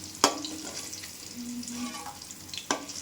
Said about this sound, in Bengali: চিংড়ি মাছটা আমার এখানে ভাজা হয়ে গেছে